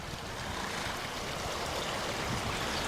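Broadband rushing water from a stream in Cranford fills the whole stretch, a steady, close stream flowing fast with no voices.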